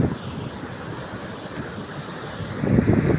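Ocean waves wash up the sand at Yarada beach in a steady low roar mixed with wind buffeting the microphone. The rush of water swells louder near the end.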